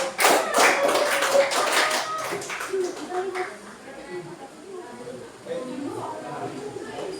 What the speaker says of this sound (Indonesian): berikan tepuk tangan kepada peserta